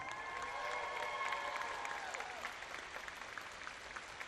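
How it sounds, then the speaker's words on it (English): Volunteers packing meals for people in need at a 9/11 commemoration event applaud themselves, a sustained, fairly distant wash of crowd clapping with light cheering that slowly thins out. "Give yourselves an enormous round of applause"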